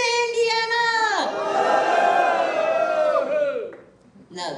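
A crowd at a gathering in Indiana answers a speaker's greeting with a swelling roar of cheers that holds for a couple of seconds and then fades. A single voice is heard just before the crowd.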